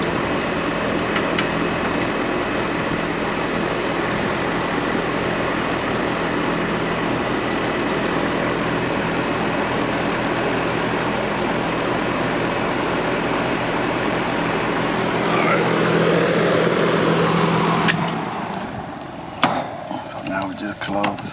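A 4-ton Goodman air conditioning unit runs with a steady, broad roar of blowing air and mechanical hum, close and continuous, before winding down near the end with a few clunks.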